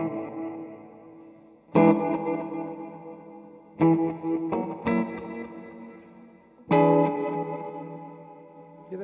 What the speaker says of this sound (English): This has got a slight echo in the delay.